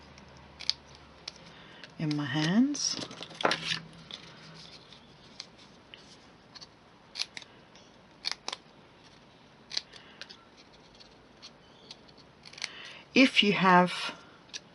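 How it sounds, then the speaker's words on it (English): Scissors snipping paper ends to flag them during a card-making session, two short bursts of cutting amid quiet handling noises, with a voice talking briefly in between. "May as well flag a few of them while I've got the scissors"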